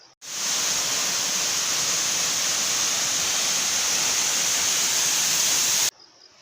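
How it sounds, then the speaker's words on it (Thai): The waterfall at Luang Waterfall Forest Park roars as a steady, full hiss of falling water, heard close and unbroken. The sound starts and stops abruptly, with no talking over it. "คุณผู้ชมได้ยินเสียงน้ำตกไหมฮะ"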